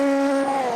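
A Nissan race car in Automobilista 2 gives a short, loud exhaust note that sags in pitch as the engine comes off the throttle, ending with a brief spit of exhaust.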